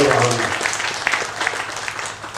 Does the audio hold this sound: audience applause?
yes